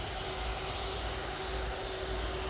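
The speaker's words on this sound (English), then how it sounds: "I'm going to have to get this plane that's coming in" An airliner comes in to land at Manchester Airport, a steady engine drone with a constant hum, moderately loud and unbroken with no voices.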